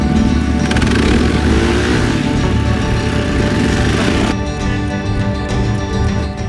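Motorcycle engine droning steadily while riding through the Balkans in Montenegro, loud and close with a constant rumble that drops slightly in pitch partway through, with no talking.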